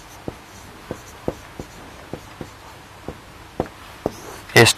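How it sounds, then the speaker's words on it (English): A pen or chalk taps and strokes while writing out data for a steel bar problem, about a dozen evenly spaced short ticks, close and quiet, ending in a brief louder scrape. "let us write the given data."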